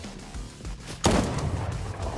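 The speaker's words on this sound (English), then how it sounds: "I think I'm getting shot at." Gunfire in the video game Fortnite comes as one sudden, loud blast about a second in, followed by a rumbling tail over the game's steady background noise.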